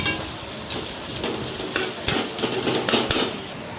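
Chopped onions sizzle and crackle steadily in hot oil, with occasional spoon scrapes and clicks as they are stirred in the pan for a plain kushka biryani, loud and close with no talk.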